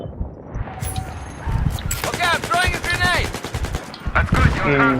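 Rapid gunfire in Battlefield 3 multiplayer, with bursts of close, loud shots mixed with game sounds while someone talks excitedly over them.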